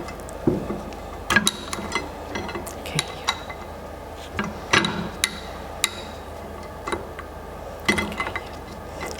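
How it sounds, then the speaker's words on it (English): A metal iron clamp fitted onto a glass condenser on a lab stand, heard as scattered sharp metallic clicks and ticks against glass, close and fairly faint, with quiet handling between them. "metallic clamp on my condenser first, at the middle of my condenser."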